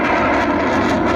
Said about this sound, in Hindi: इंडियन आर्मी का ये C-130J हरकुलिस विमान है जो इस वक्त एक्सप्रेसवे पर उड़ान भरने की तैयारी कर रहा है